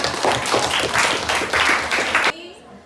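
Classmates at a senior high school religious-education class applaud a student group, a loud crowd clapping that stays dense for about two seconds and then cuts off abruptly into near silence.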